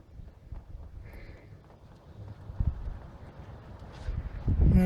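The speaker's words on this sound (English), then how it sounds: "Now it's a bit of wind now" Wind gusts outdoors during a transmission service on a 2000 BMW E46 318i automatic, heard as a steady low buffeting rumble across the microphone that grows louder and rougher toward the end, with no talking.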